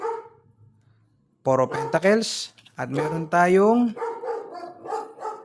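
A dog barks a few times in the background while someone speaks Tagalog over it during an indoor tarot reading.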